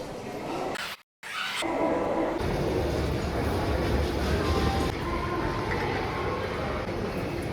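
Haldia local train at Howrah station, a steady rumble of rail noise with station ambience that continues for the whole stretch after a brief dropout near the start, and people's voices faintly in the mix.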